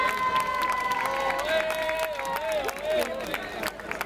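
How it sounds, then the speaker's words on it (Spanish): Crowd at a village festival trophy presentation clapping and cheering, a busy mix of claps and shouts with prominent sustained tones and voices running through it, fairly loud and continuous. "Un aplauso para él"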